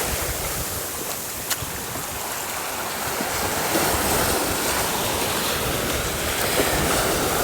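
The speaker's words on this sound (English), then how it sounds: "she's gonna let this wave pass" Ocean waves roll and wash onto a rocky shore at a Bonaire dive site, a continuous broad roar of surf with wind buffeting the microphone, steady and fairly loud throughout with no talking.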